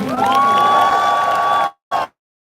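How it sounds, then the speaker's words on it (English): A crowd at a London rally in support of Ukraine cheers loudly in a sustained roar with a ringing shout on top, then cuts off abruptly, followed by one brief final burst. "So let's give him a round of applause too."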